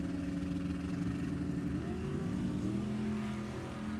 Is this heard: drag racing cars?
yes